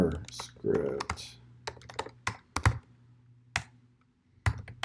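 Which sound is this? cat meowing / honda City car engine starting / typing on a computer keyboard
typing on a computer keyboard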